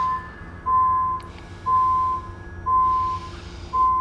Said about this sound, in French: j'entends des bips